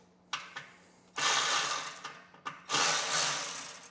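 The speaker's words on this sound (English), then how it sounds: "take his 8mm and loosen the clamps holding that front shield" An 8mm ratchet loosening the exhaust shield clamps on a 2023 Harley-Davidson Street Glide, with close metallic clicking in two bursts separated by short pauses and a few isolated ticks, heard alone.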